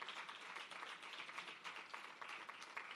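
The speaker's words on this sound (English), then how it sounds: "So I wanted to give MasterCard and every craft vendor a round of applause." Very faint, distant audience applause at an export academy launch event, steady dense clapping that holds at low level throughout.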